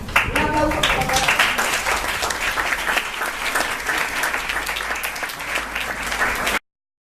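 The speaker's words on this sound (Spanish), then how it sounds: "Un aplauso para la..." An audience at a keynote conference lecture breaks into dense, sustained clapping, loud and full for about six and a half seconds before it cuts off abruptly, with a few voices mixed in at the start.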